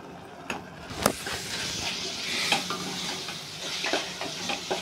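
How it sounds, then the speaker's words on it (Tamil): Mutton kudal gravy being stirred in a pan with chilli powder, curry masala and turmeric, a steady close frying sizzle broken by several sharp scrapes and clinks of the spoon. "எல்லாம் நல்லா மிக்ஸ் பண்ணிக்கணும்."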